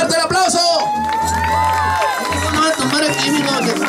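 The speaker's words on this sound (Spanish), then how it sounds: "¡Fuerte el aplauso para los Cachorros!" A lively crowd cheers and whoops at a Liga Norte de Phoenix finals and awards event, with clapping and shouting voices blending into a steady, close roar of excitement.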